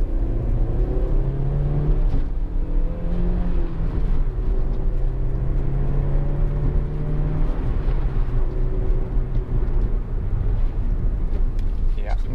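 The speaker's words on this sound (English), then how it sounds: "I'm going to go up a really horrible little bit of road now, which has got loads of bumps and potholes" Honda Civic 1.8 i-VTEC EX five-door driving over a rough stretch of bumpy, potholed road, then braking hard; a steady low engine and road rumble runs throughout with thumps from the surface, and faint voices hum in the background.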